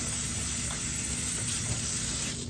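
A spray of very hot, steaming water blasts onto muddy baseball knickers, a steady close hiss lasting the whole time with no pauses.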